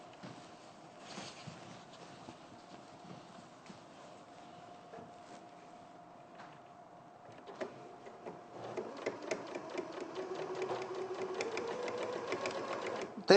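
A sewing machine stitches through fabric layers with a faint, quiet whir at first, then a faster, louder run of rapid ticking stitches in the second half.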